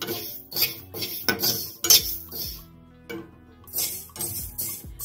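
Fenugreek seeds roasting in a hot kadhai over a low gas flame, stirred with a metal spoon that clinks and scrapes against the pan in quick repeated strokes, close up, with a short pause midway.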